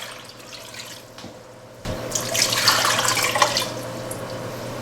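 Water poured into a cook pot holding two pounds of pitted plums for plum jelly, a steady splashing fill that starts partway through and stays loud, close and continuous to the end.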